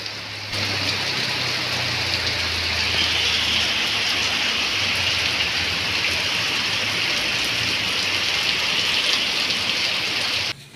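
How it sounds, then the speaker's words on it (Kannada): Heavy rain pours down steadily on a Sunday morning, a loud, dense, unbroken hiss of falling water that lasts the whole stretch with no voices. "ಮಳೆ ಅಂತೂ ಸಿಕ್ಕಾಪಟ್ಟೆ ಜೋರು ಬರ್ತಾ ಇದೆ"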